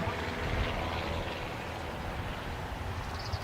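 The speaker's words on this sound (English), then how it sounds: "approaching over on the north side is Delta Flight 187 from LHR London Heathrow on our Airbus A330-941" A Delta Airbus A330-941 from London Heathrow approaches LAX to land, heard as a steady, broad airliner engine roar at moderate distance with no clear rise or fall.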